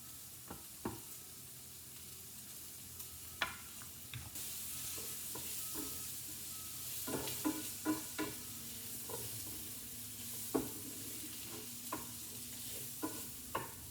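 Vegetables, garlic and ginger sizzling in a hot pan, a steady close frying hiss that turns louder partway through, punctuated by repeated clicks and scrapes of stirring, with no talk.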